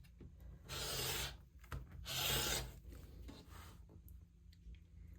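A rotary cutter slicing 1.5 inch fabric strips along a quilting ruler, heard as two close, loud rasping strokes with softer scraping and handling between them.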